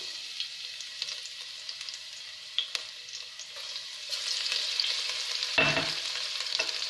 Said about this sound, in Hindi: हल्का सा सौटे करेंगे और साथ ही शामिल कर देंगे तमाम सॉसेस